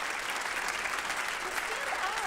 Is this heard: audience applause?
yes